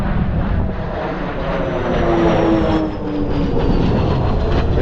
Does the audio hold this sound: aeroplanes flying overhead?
yes